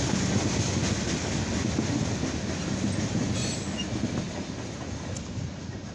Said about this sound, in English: We just had a CSX coal hopper train here on track 2, proceeding from North Baltimore towards Defiance